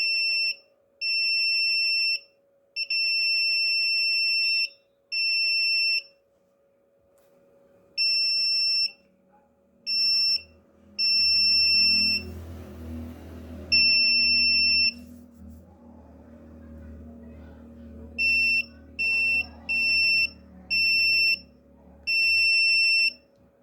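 A TTP223 touch sensor buzzer gives loud, piercing electronic beeps in irregular bursts of varying length, with a brief stretch of handling noise midway and no talking.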